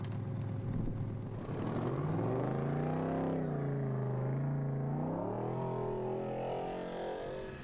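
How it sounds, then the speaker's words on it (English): A rally car on a Silk Way Rally desert stage strains to free itself from deep sand, its engine revving hard and rising and falling in pitch over several seconds, loud and close with no talk. "and Maris Salkins in his Team Latvia Oscar, having to get himself out of the deep, deep sand"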